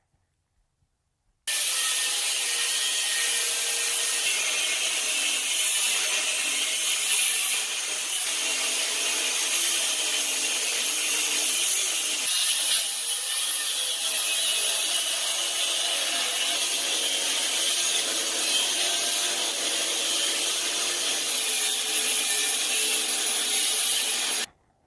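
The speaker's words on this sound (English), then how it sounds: "I'm going to cut these bolts off" A power tool cuts bolts off an HVAC scroll compressor, making a loud, continuous high-pitched grinding and cutting noise that runs without a break for over twenty seconds and then stops abruptly.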